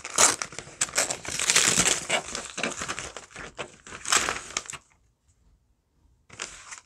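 Packaging crinkles and crumples close up in bursts of rustling for about five seconds, then falls silent before a short final rustle; nobody speaks.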